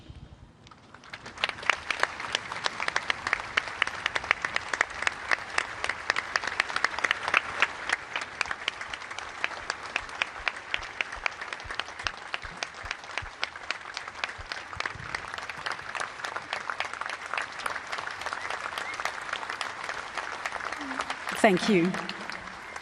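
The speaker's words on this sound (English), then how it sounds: "please stand for a moment of applause for Rado Vidicic" A stadium crowd at an Adelaide United v Melbourne City A-League football match gives a standing tribute applause, swelling after a quiet start into roughly twenty seconds of sustained clapping, with a brief spoken voice near the end.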